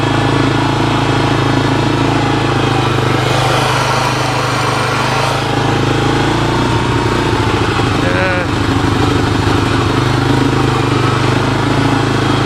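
A 1985 Honda TRX250 ATV engine idles steadily and loudly up close, its running rich giving a rough, uneven drone that carries through the whole clip, with faint background voices underneath.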